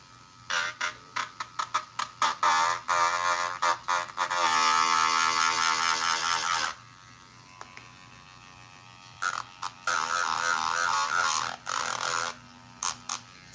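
Electric drill roughing up the surface of a case, heard in repeated short bursts and a few sustained whining runs of several seconds, loud and close with quiet pauses between.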